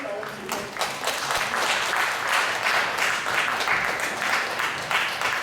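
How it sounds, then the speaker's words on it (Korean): Audience applause at a mathematics education lecture in Korea, welcoming the lecturer to the stage; a dense, steady wash of clapping from a sizeable crowd fills the whole stretch, fairly near and even in loudness. "박수로 최수희 박사님 나오시죠."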